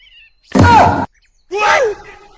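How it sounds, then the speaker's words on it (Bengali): A crow arriving near a home gives two loud, harsh caws in quick succession, each about half a second long, with a short quiet gap between them. "ভাত ছাড়ানোর আগে কাক এসে হাজির।"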